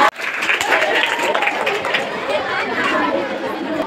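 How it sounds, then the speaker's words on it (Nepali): A Nepali school audience claps to welcome the headmaster at a Dashain programme. Steady applause blends with crowd chatter and continues unbroken for several seconds. "सबैजना ताली बजाएर स्वागत गरिदिनु।"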